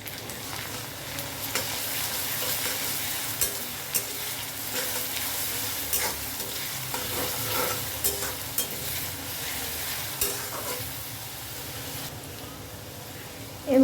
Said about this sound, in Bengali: এবার এখানে আমি কাঁচা লঙ্কার যে রসুনটা পেস্ট করে রেখেছিলাম সেটা দিয়ে দেবো